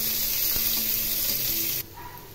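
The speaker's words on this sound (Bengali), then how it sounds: "এর মধ্যে ভিজানো মুসুর ডাল দিয়ে দিলাম।" Soaked masoor dal goes into hot oil with chopped onions in a kadai, giving a steady sizzling hiss with a brief knock partway through, then a quieter simmer after the sizzle suddenly drops.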